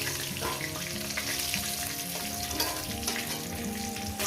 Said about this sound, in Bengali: মাছের মাথা দুটো দিয়ে দিয়েছি দিয়ে এটা ভেজে নেব